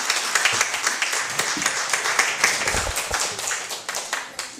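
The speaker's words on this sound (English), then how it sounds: "So let's give a round of applause for our poetry." An audience claps for a poetry performance at a live show, a lively round of applause with distinct individual claps audible within the steady crowd noise.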